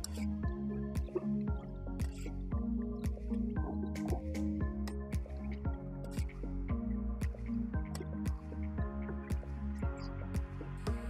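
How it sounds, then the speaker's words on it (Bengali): Beef braising in a pan is stirred and turned, giving a dense run of wet squishing, dripping and soft clattering sounds, steady and close throughout. "এখন আমি ভালোভাবে নেড়ে চেড়ে মাংসটা কষাতে দেব"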